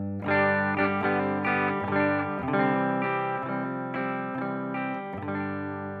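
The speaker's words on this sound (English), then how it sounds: "the tweed bassman's giving us a good bright sound" An electric guitar plays chords and notes through a tweed Bassman amp model, a bright, slightly overdriven tone ringing steadily with a rhythmic strum pattern.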